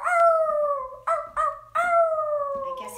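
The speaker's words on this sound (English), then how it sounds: "He howled very, very loudly." A dog howls loudly and close, with long drawn-out tonal wails broken by short gaps, then resuming in another sustained cry, with no talking.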